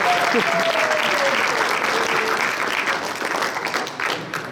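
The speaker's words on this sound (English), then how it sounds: "Round of applause for our second varsity award winner." Loud, enthusiastic applause from a crowd at a sports banquet award ceremony, steady clapping that tapers slightly toward the end, with a brief voice near the start.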